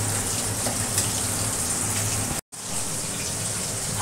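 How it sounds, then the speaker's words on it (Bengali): Pomfret fish fry in a pan of hot oil, giving a loud, steady, close sizzle that runs continuously with one brief cut. "আচ্ছা, মাছগুলো ভাজি, সাথে থাকো।"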